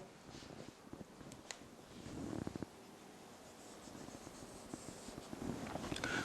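Chalk or marker writing on a board during a chemistry lesson, faint scratchy strokes in short bursts against a quiet room hum.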